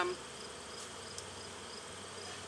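Dense, continuous buzzing of many honey bees around a backyard hive close by, a steady droning hum with no talking.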